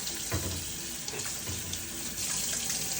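Tap water runs steadily into a sink while dishes are washed at home, a continuous close splashing flow with faint clinks of dishware and no talk.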